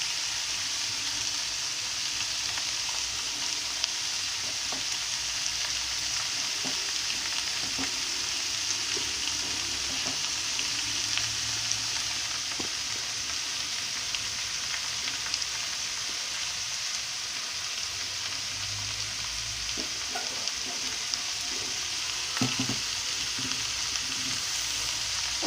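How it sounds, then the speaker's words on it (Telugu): Shredded cabbage sizzles and crackles in a hot pan while being stirred, a steady hiss with scattered small pops and occasional scraping clicks, no voices. "పైకి కిందకి కలియ తిప్పాలి."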